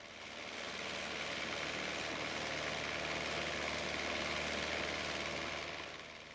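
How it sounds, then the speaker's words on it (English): Light aeroplane engine at open throttle accelerating for takeoff, a steady, loud, droning roar holding even throughout with no voices. "The pilot opens the throttle and the aeroplane accelerates."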